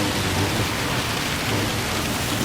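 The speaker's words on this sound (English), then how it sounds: "The rain really hammering down" Heavy rain in Gran Turismo 7 during a race at the Red Bull Ring, a dense, constant hiss of downpour with a low rumbling undertone, steady throughout.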